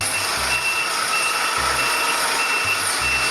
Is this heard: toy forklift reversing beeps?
yes